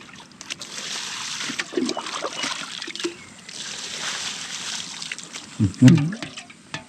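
Water from a farm dam outlet in Pagbilao, Quezon flows steadily as a broad trickling wash, with a couple of louder splashing bursts near the end and faint voices in the background.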